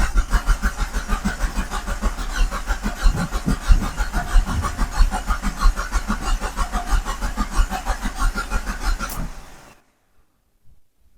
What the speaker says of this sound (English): Well, at least it cranks over.